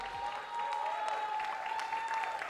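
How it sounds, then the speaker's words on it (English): A crowd at a film cast event applauds in a brief, moderate burst, with a sustained tonal hum running underneath the clapping. "Give a round of applause."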